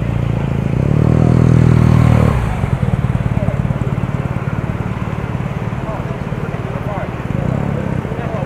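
Motorcycles roll along a road on a charity trip to Phrao, with a loud engine drone swelling close by and then fading into busy, rumbling traffic noise that continues to the end.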